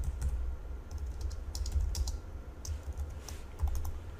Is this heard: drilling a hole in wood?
no